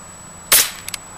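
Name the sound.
pellet gun firing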